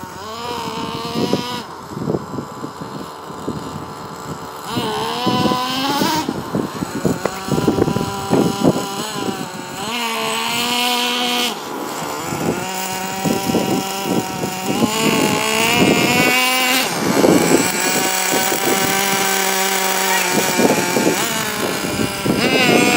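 Nitro RC truck engine revved in short throttle bursts, a buzzing small two-stroke whine rising and falling repeatedly, close and loud, with wind noise.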